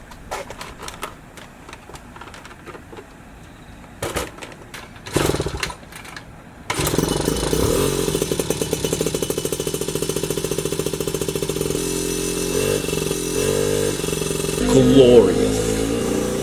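A motorcycle, a high-performance JDM bike, is cold-started after several short cranking attempts, then settles into a loud, close, rapid-firing idle with throttle blips and a rising rev near the end.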